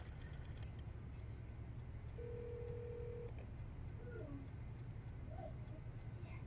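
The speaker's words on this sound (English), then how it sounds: "The sounds of a rotary phone." A telephone in the video game Metal Gear Solid 3, heard as a single steady tone lasting about a second over a constant low hum, with faint scattered blips.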